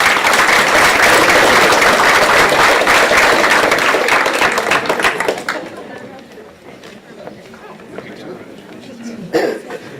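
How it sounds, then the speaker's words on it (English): Loud applause from an audience at a middle school awards banquet fills the first half, then fades into quieter murmuring and scattered noises. "let's give them all a big round of applause"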